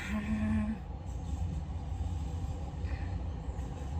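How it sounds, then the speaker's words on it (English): A train passes close by, a steady, loud rumble of rolling wheels and carriages that fills the whole stretch without a break. "I don't remember the trains going by so many times."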